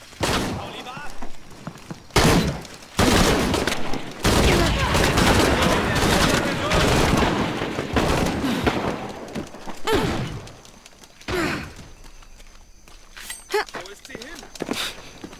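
Heavy gunfire erupts in Shadow of the Tomb Raider, with dense volleys, thuds and crashes that ease into scattered shots, while voices speak over the combat.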